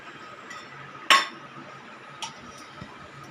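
A lid goes onto a pot of steaming oats puttu with one sharp metallic clink, followed by a fainter second tap and a quiet tick over a low background hiss.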